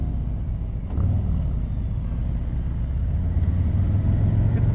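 A 2019 Harley-Davidson Street Glide 107 motorcycle engine idles with a close, low, steady rumble and a throbbing beat that swells slightly toward the end.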